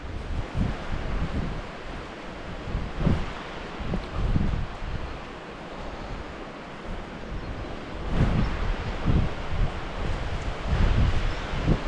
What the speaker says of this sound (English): the wind's going to keep the wet stuff away, hopefully